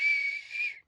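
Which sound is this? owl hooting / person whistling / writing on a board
person whistling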